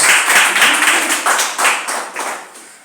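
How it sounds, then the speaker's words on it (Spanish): A church congregation applauds loudly and continuously in a dense, rhythmic wash of hand claps that slowly fades toward the end. "Denle un aplauso fuerte a Cristo."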